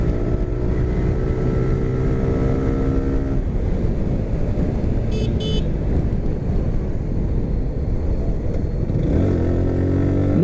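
A 2017 Suzuki Gixxer SF motorcycle on the road, its engine droning steadily and loud throughout with wind rush, the tone shifting as the rider changes speed and the pitch climbing again near the end.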